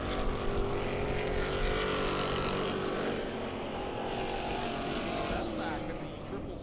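Thunderstock race cars roar steadily around the track, racing for the starting order in a short six-lap event, a continuous loud engine drone with an announcer talking over it.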